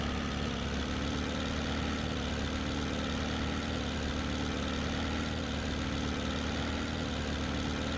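A steady, low vehicle engine idle in Farming Simulator 17 hums evenly throughout, fairly quiet and unchanging, with a synthetic, game-like quality and no voices.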